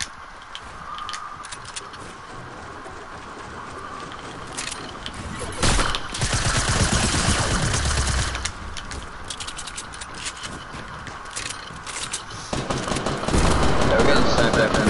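Sniper rifle fire in a video game, heard as a couple of sharp shot bursts with mechanical clatter over a steady game background, with a player talking throughout.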